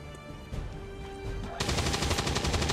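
Rapid bursts of soldiers' gunfire in the turn-based tactics game XCOM 2, a dense loud volley rattling through the second half after a quieter stretch of rumbling game ambience.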